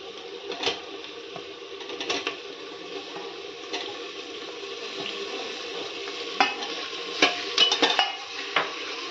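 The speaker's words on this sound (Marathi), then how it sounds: "हे नीट मिक्स करून घेते आणि चांगला टोमॅटो परतवून घेते थोडा वेळ." Tomatoes and curry leaves being stirred in a pan. A spoon scrapes and taps against the metal in irregular bursts over a soft, low sizzle, and the clatter grows busier toward the end.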